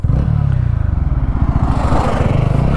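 A 2024 TVS Ronin 225 motorcycle accelerates hard in first gear, its single-cylinder engine thumping in a fast pulsing rhythm that rises in pitch as it pulls, loud and close.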